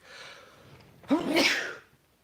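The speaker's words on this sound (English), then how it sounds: "I got a sneeze coming." A single loud, close sneeze, preceded by a faint breathy intake and trailing off into silence.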